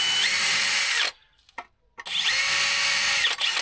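A power drill with a standard metal bit whines loudly for about a second, stops briefly with a few small clicks, then spins up again in a long, steady high-pitched run.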